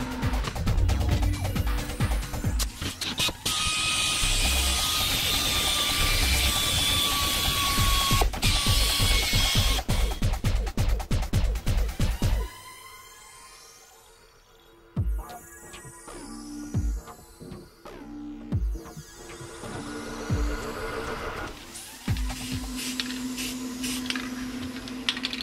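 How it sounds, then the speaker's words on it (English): Paint is sprayed onto a handmade scarecrow spider decoration in bursts of hissing over rattling, clicking workshop sounds. A quieter stretch follows, broken by short, sharp mechanical clacks. "we'll clean them up, blow some paint on them while the other one cools off"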